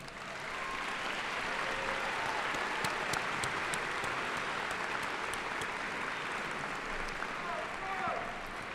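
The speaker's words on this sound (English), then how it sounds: "Students, if you would join me in gratitude and give them all a round of applause." Sustained applause from a high school graduation audience, a dense, even roar of many hands clapping throughout, fairly loud and continuous with a few louder individual claps poking through.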